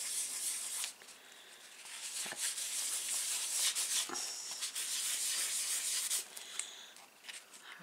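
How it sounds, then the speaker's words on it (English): Someone lightly rubs a sponged paper card by hand while making cards, producing a steady close-up swishing rub with brief pauses and small knocks, no voices. "Just rub lightly."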